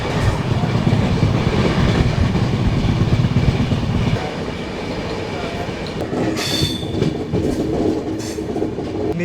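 Mithila Express pulling into Ramgarhwa station, a loud close rumble of rolling wagons with clickety-clack and wheel squeal, easing and quieting midway, with a brief higher screech near the end.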